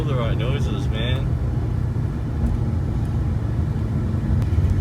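An Audi Ur Quattro's five-cylinder engine runs as a steady, loud low rumble that fills the whole stretch, heard from inside the car while it drives, with a brief higher squeak near the start.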